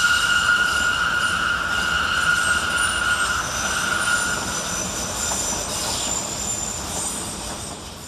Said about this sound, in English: arriving over on the far side is S-Dock units 21561 and 21562 with a Circle Line service from Hammersmith to Edgware Road